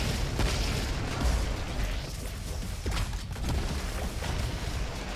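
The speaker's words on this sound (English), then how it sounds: "I'm literally just trying to use my grenades" Grenade explosions in the video game Roboquest, a few muffled bursts and thumps scattered through a dense, continuous wash of game noise at moderate volume.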